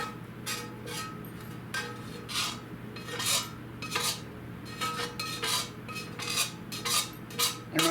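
A heavy frying pan is handled while scrambled eggs cook with ham, onions and pepperjack cheese. Scrapes and metallic clinks of a utensil against the pan repeat irregularly over a low background hum, with no talk.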